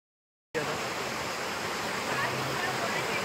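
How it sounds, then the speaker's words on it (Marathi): Steady, dense rush of falling water, broad and constant like a waterfall heard close by, after a brief silent start. "विभूती फॉल्स आहे."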